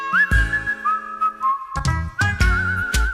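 A man whistles a melodic tune, sustained bright gliding notes rising and falling close to the microphone, with music accompaniment underneath.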